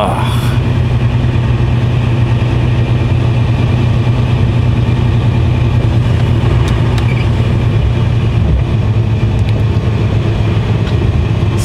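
Steady engine drone from inside a car while driving, a constant low rumble with road noise throughout, loud and unbroken with no clear rise in revs.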